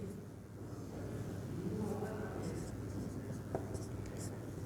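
Marker or chalk strokes on a board during a reproductive health lecture, faint scratchy writing sounds repeating under a steady room hum and low background voice.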